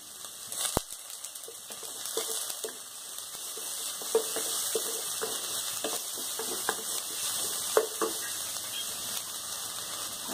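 Onion and curry leaves frying in a pan for a Tamil coconut chicken fry, a steady soft sizzle with scattered crackles and pops and an occasional clink, all fairly faint.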